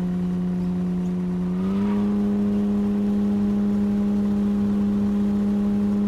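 A car engine in No One Survived hums as a steady tonal drone, stepping up slightly in pitch, then holding evenly at close range with no talk.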